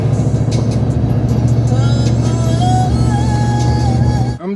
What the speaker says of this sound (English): I'm driving, and I'm pretty much in tune with my vehicle